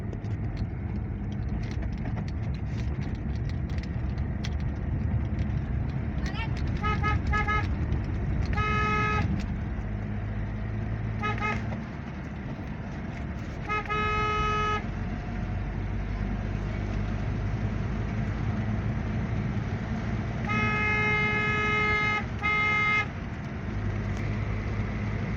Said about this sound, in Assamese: স্কুল বাছ আহিছে এইফালে